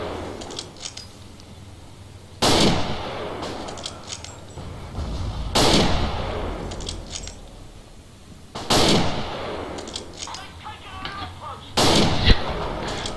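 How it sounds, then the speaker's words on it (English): Satchel charge explosions amid gunfire in the video game Forgotten Hope 2 at Pegasus Bridge, with several loud booming blasts at regular intervals and scattered sharp shots and clatter in between. "Whoa, that was a nice satchel charge."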